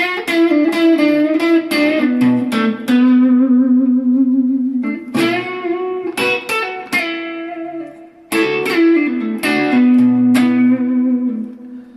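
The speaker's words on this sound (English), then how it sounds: "I think Dan from That Pedal Show runs both sides as a clean boost mode." An electric guitar plays loud, sustained chords and ringing single notes through an overdrive pedal in clean boost mode, with repeated phrases separated by brief pauses and no talking.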